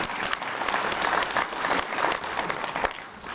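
A town hall audience claps steadily and densely for several seconds, a near, sustained wash of applause with no talking over it.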